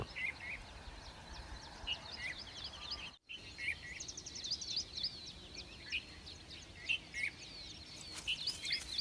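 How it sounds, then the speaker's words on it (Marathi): Sparrows chirp in short, scattered high tweets during a morning walk outdoors, faint and somewhat distant over a soft ambient rumble, with a brief dropout partway through. "चिमण्यांचं किलबिलाट"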